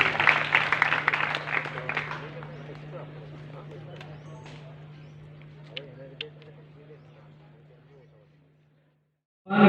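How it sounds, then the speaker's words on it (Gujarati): Loud applause from an audience at a memorial ceremony in a school hall, strongest at the start and slowly thinning out into scattered claps over a steady low hum before falling silent. "ફરી એકવાર જોરદાર તાળીઓથી આ પવિત્ર વિધિને આપણે વધાવીએ."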